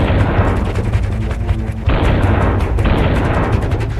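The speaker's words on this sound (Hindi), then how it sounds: "तोप के गोलों का ताबड़तोड़ प्रहार।" Artillery shells pounding in a heavy barrage during the Russia–Ukraine war, a continuous loud rumble of booms and blasts with one sharper surge partway through and no pause between impacts.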